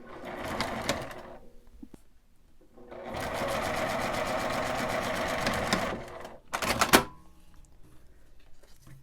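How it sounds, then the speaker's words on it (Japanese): A sewing machine edge-stitches a folded fabric tab for a nylon box pouch, whirring in three bursts: a short run, a longer steady stretch, then a quick final spurt, close and loud. "端から1センチ折って端ミシンをかけます。"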